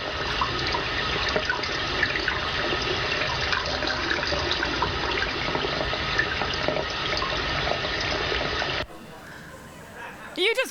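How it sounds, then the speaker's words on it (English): Water runs steadily from a tap over a snail, a continuous close splashing stream that cuts off abruptly near the end, leaving faint room noise and a few soft knocks. "You just watched a snail taking a shower."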